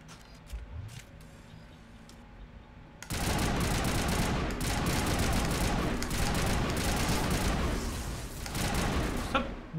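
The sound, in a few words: assault rifle gunfire in video game Mass Effect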